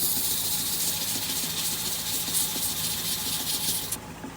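Sandpaper rubs steadily against a spinning black walnut bowl on a lathe, a continuous close, bright hissing scrape with the lathe's low hum beneath, cutting off near the end.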